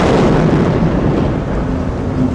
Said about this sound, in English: There was a huge explosion, rocked the general area